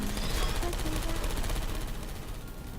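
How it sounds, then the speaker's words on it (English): Rapid bursts of gunfire in the video game Portal 2 crackle steadily over a dense background of game noise and music. "I heard gunfire!"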